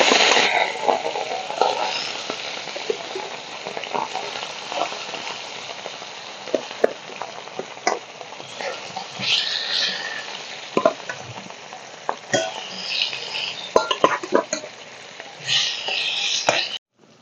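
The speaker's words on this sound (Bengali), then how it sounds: "কড়াইতে সর্ষার তেল দিয়ে আমি গরম করতে বসিয়ে দিয়েছি তেলটা গরম হয়ে গেছে মাছগুলো ভেজে দেবো" Katla fish fries in hot mustard oil in a wok, giving a steady, close crackling sizzle with scattered sharp pops and spatters throughout.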